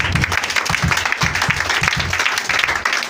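Congregation at a French-language church service applauding to acclaim the Lord, a dense, steady wash of clapping throughout with faint low rhythmic thumps beneath.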